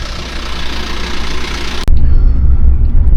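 A bus engine runs at a border crossing, first a steady mid-range hum, then after a sharp click a much louder, deeper low rumble takes over close by and continues to the end.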